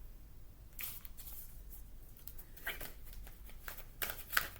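Large oversized deck of cards being shuffled by hand, a series of soft riffling and sliding bursts, close and moderately quiet, with no talking.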